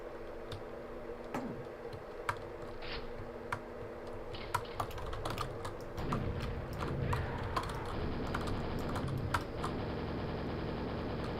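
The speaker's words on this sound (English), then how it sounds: "I'm glad you like my keyboard sounds" A computer keyboard clicks away over a droning video-game soundtrack, irregular sharp keystrokes in bursts that become faster and busier toward the end.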